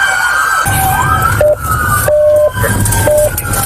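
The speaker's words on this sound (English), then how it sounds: "Everybody, turn your sirens off." Several police sirens wail and whoop at once during a SWAT gunfight, loud and close, with overlapping rising and falling tones and short electronic yelps.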